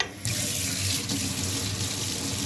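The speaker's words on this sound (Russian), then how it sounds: "О, теплая вода." Warm tap water runs steadily from a gas-heated faucet in an apartment, a loud continuous rushing stream that starts abruptly after a brief pause and keeps flowing without talk.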